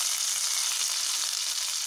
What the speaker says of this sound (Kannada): ನೋಡಿ, ಈಗ ನಾನು ಒಗ್ಗರಣೆನ ಸೇರಿಸ್ಕೊಳ್ತಾ ಇದ್ದೀನಿ.